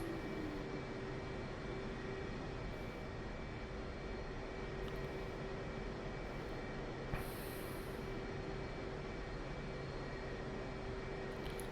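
Jet aircraft engine in Digital Combat Simulator holding a steady, broad roar as power is pushed up on a Rota shoreline runway, a continuous loud drone with a faint tonal whine and no talk.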